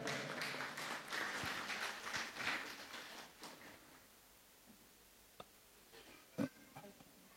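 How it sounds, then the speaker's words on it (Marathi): An audience claps at a birth-anniversary devotional music program, honoring a respected teacher. The steady, moderately distant applause lasts about three seconds, then fades to near silence with a couple of isolated knocks. "एकदा जोरदार टाळ्या"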